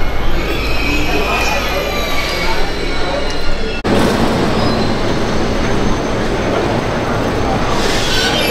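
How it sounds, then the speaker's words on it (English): A high-speed train in Italy rumbling along the rails with a steady loud roar, faint wheel squeal and a sudden shift partway through as the sound changes, continuous throughout. "Speed train."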